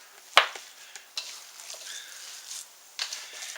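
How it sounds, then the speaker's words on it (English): Jalapeno and cheddar mixture being worked by hand into ground sausage meat, giving soft, wet squelching and stirring noises with a sharp knock near the start and another about three seconds in, close and fairly quiet. "we're going to add half the jalapeno and cheddar mixture and mix this in"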